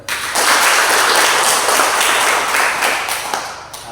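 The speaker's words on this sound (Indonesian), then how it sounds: "Beri tepuk tangan dulu saudara" Worshippers in a church clap together after a sermon line, a quick swell of dense applause that stays loud and then fades off near the end.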